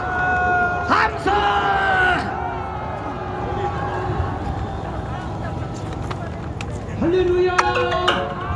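Crowd at a Korean political rally shouting and cheering, with loud bursts of voices at the start and again near the end and a sustained crowd din between them.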